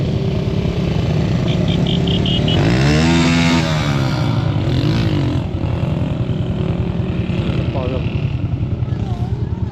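Motorcycles ridden past a park on a road near a mosque in Iran, loud buzzing engines that swell and fade as several bikes go by close up, with people talking over the traffic.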